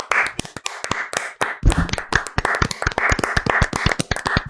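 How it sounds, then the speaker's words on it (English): A small group claps briefly and somewhat unevenly, sharp hand claps close by, without speech. "That seemed like it was the most resistant clapping."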